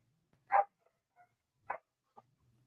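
Dogs barking in the Philippines, with a few short, sharp barks spread apart and a faint yip in between, somewhat distant against near silence.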